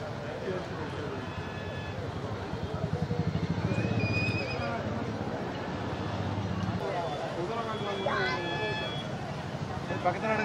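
Horses neigh at a busy outdoor horse market, loud whinnies rising over a steady crowd babble with people talking nearby and occasional hoof clops.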